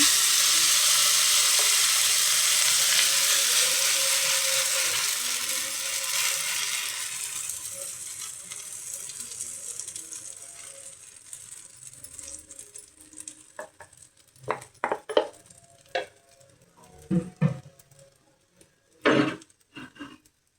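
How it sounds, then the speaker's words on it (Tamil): Egg dal dosas sizzle in oil on a pan, a loud broad frying hiss that fades over the first half, then gives way to scattered clinks and scraping knocks of a utensil. "இப்போ தோசைகள் போட்டு எண்ணெய் ஊற்றிட்டேன்"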